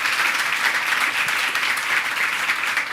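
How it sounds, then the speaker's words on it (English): Steady, dense applause from an audience after a question session, loud and continuous throughout with no pauses. "Round of applause."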